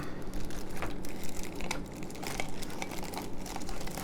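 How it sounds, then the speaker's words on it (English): A plastic piping bag is stretched and crinkled over a drinking glass before being filled with melted chocolate, a close, continuous rustling with sharp crackles throughout and no voices. "Just put your bag over the glass."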